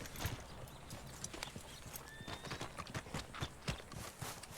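Horse hooves clip-clop in the Red Dead Redemption 2 video game, a steady series of sharp, close hoof strikes at walking pace, with a brief faint whinny partway through.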